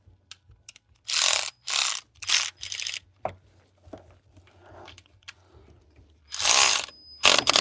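A hand ratchet tightens bolts on a Jeep engine during a head gasket job, giving several bursts of loud, close clicking with short pauses between strokes.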